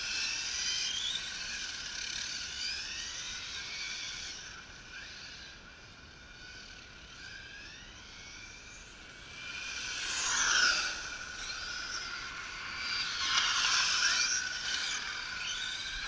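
A Traxxas XO-1 RC car running on a 3S battery, its high electric motor whine rising and falling with throttle, swelling into louder bursts near the end as it speeds by.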